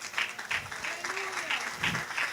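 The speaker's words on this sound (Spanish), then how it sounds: "Dele un aplauso al Rey." Applause from a Pentecost church congregation, a moderate crowd clapping steadily and fairly close, with a faint tonal voice or music line running beneath.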